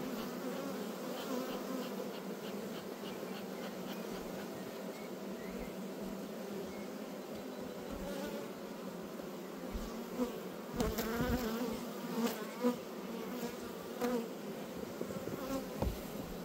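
Honeybees swarming around a brood frame lifted from a hive in an apiary, a steady dense buzz close up that lasts throughout, with a few louder passes near the end.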